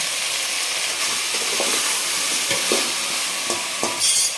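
Okra and tomato pieces frying in a pan with brinjal for pappu charu: a continuous close sizzle and hiss with intermittent stirring scrapes and clinks throughout.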